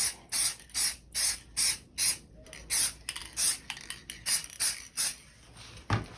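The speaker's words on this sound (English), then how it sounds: "give it another little spritz, and spray" Repeated short bursts of aerosol spray, about a dozen hissing puffs in a steady rhythm, close and fairly loud, with brief pauses between.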